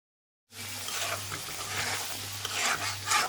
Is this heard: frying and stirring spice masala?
yes